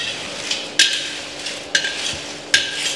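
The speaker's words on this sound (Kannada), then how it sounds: "ಬ್ಯಾಡಿಗೆ ಮೆಣಸು ಕ್ಲೀನಾಗಿ ಫ್ರೈ ಆಗಬೇಕು, ಚೆಂದ ರೋಸ್ಟ್ ಆಗಬೇಕು" Byadagi chillies are roasted and stirred in a pan for bisibele bath powder, with a steady dry rustle and sizzle broken by three sharp scraping clinks of the spatula against the pan.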